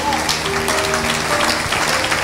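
A church congregation applauds during a service, with dense, continuous clapping filling the space and a murmur of voices underneath.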